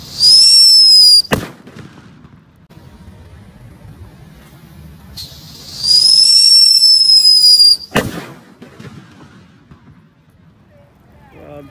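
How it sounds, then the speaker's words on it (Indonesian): A Happy Flower tulip firework goes off twice, each time a loud rising whistle that ends in a sharp crack, with quiet gaps in between. "Selanjutnya ini ada mercon Happy Flower bunga tulip"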